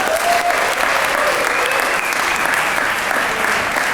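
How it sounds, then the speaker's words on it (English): An audience at the 2022 Belmont Entrepreneur Awards gives a steady, dense round of applause for a student jazz quartet, a continuous wash of clapping from many hands that holds at an even, fairly loud level throughout. "let's give a round of applause to our band"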